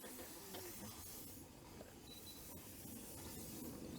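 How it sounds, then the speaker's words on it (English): Steady hissing of steam from open cylinder drains over a low rumbling engine, continuous and fairly loud, with faint clanks as a steam locomotive begins to move. "We have some drains are open, so we have some steam at the front visible as we start."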